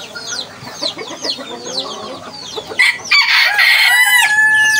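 An old silkie hen, about seven years old, clucks on a farm in a close, busy run of calls, with a rooster crowing loudly over it near the end.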